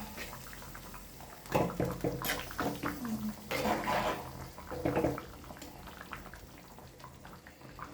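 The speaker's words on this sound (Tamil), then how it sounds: "இப்போ எங்களோட கறி நல்லாவே கொதிக்குது" A pot of fish curry bubbles and simmers nearby with a continuous liquid burble, and louder stirring swishes come in bursts midway.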